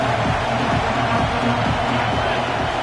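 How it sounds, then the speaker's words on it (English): Stadium crowd at a football game roars in a dense, continuous wash of cheering and babble, loud and close throughout with no break. "this crowd is fired up. Listen to this noise here."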